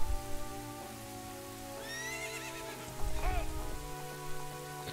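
A horse whinnies in a Zelda video game, a high falling neigh followed by a second short one over steady rain-like game ambience and low music.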